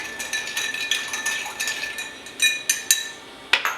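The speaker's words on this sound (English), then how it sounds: "Give it a nice stir." Cocktail with green chartreuse being stirred in a glass, bright metallic clinks and scrapes of a bar spoon against the glass in an irregular series, close and alone with no talk.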